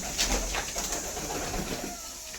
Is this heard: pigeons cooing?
yes